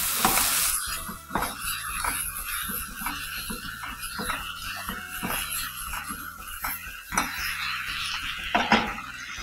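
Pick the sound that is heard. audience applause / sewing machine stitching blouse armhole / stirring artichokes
stirring artichokes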